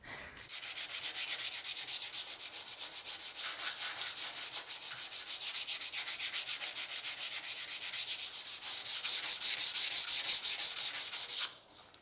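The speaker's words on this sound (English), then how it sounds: "that's just going to be a lot of sanding" Wood is sanded by hand with 100-grit paper. A steady, close, hissing scrape of back-and-forth strokes runs continuously, growing louder near the end before stopping abruptly. No one speaks.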